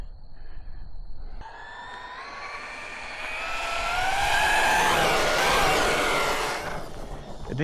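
Traxxas Jato RC car running on a 4S battery with ballooning tires, a high electric motor whine that climbs and sweeps in pitch as it speeds up, loudest in the middle, then eases off near the end.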